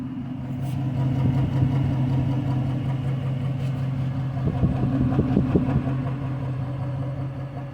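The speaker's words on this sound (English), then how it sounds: "Engine is still shaking. It still has that misfire." A Chrysler 300 with a rebuilt HEMI V8 idles roughly with a cylinder misfire, a low steady rumble broken by uneven stumbles and shakes, heard close with no talking.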